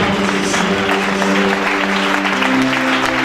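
A church congregation at an Easter convention claps in dense, sustained applause that fills the room evenly, with faint voices cheering underneath.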